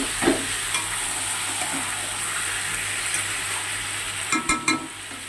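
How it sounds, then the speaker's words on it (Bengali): Loud, continuous sizzle of marinated meat frying in a hot kadai wok, with a couple of quick utensil clinks near the end. "এবার আমি মাংসটা যেটা মাখিয়ে রেখেছিলাম সেটা দিয়ে দিয়েছি কড়াতে"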